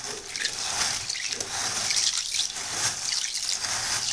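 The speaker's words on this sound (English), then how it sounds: "we will swish them around and wash them off" Continuous wet swishing and sloshing of water as dry Mayocoba beans are washed by hand in a bowl, with small dribbles and splashes.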